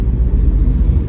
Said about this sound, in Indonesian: Ini sekarang gigi 1, tambah ininya RPM-nya. Gas dulu.